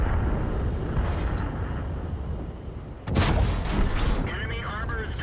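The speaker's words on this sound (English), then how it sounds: "Enemy armor is destroyed." Explosion of an enemy tank in a tank video game, a sustained rumbling roar that drops briefly, then a sharp loud burst at about three seconds followed by crackling debris and echoes.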